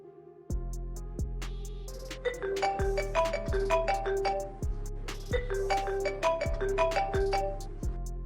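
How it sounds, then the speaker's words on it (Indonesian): A chiming phone ringtone in an office setting plays a repeating pattern of bright melodic tones over steady low bass pulses, fairly loud and continuous with no talk. "Tuan Cheng, saya mau terima telepon dulu sebentar."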